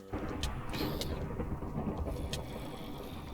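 Rumbling thunder after a lightning strike in the Minecraft video game, a low rolling boom that swells and fades over a few seconds, moderately loud with no talk over it.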